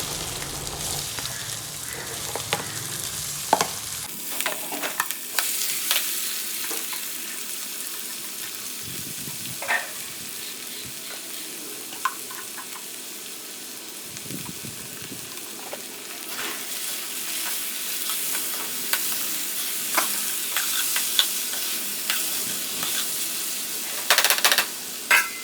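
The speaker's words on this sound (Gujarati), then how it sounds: "આખું જીરું નાખ્યું છે અને હવે નાખ્યો મીઠો લીમડો અને બટેકા, ટમેટાં અને લીલા મરચાંનો વઘાર કર્યો છે." Whole cumin, curry leaves, potatoes, tomatoes and green chillies hit hot oil in a tempering with a loud opening burst, then settle into a continuous sizzle broken by stirring scrapes and taps.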